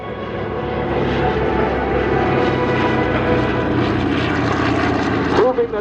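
C-47 airplane radial propeller engines at the Geneseo Airshow, a loud sustained throbbing drone holding steady throughout, heard close by with crowd and background chatter beneath.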